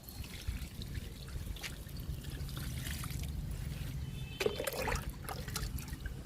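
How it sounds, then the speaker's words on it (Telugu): Liquid fertilizer is poured from a container onto okra plants growing in tubs, making a steady, close trickling and splashing of water over a low background hum, with one brief louder splash near the end. "ఇప్పుడు లిక్విడ్ ఇచ్చేద్దాము. ఫస్ట్ డబ్బాలు పోస్తున్నా."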